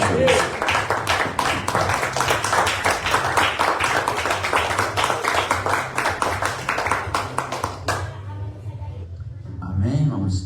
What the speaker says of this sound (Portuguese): quem puder, as palmas para o Senhor Jesus